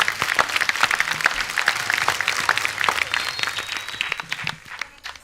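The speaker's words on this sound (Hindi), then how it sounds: "जोरदार तालियां" Studio audience applause on a comedy talk show greets newly introduced cast members, a lively burst of many hands clapping with sharp individual claps and a faint whistle, tapering toward the end.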